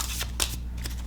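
Playing cards being shuffled by hand, somewhat clumsily, in a quick flurry of crisp riffling bursts that flutter and snap close to the listener, with no talking.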